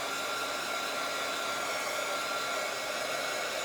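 A hair dryer runs steadily at close range, a continuous loud airy whir drying a painted shovel before more colors are added, with no pauses or voices.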